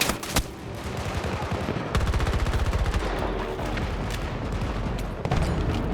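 Loud, dense video game gunfire crackles almost nonstop, with a fast, even machine-gun rattle in the middle and sharp single shots at the start and end.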